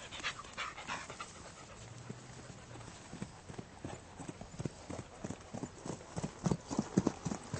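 Horse hooves clip-clop in a steady rhythm during a riding lesson, with a dog panting nearby and the hoofbeats growing louder toward the end.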